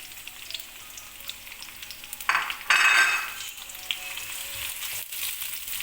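Onions dropped into hot oil in a kadai for an eggplant and potato dish, a sudden loud burst of sizzling that settles into a softer steady fry.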